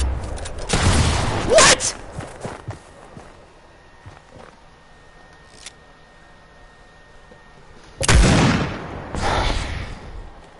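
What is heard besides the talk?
AK rifle and pump shotgun shots in a video game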